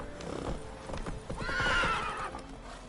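Roach, the horse in The Witcher, snorts and stamps with a few hoof clops before letting out a loud, drawn-out neigh midway, close and unaccompanied by talk.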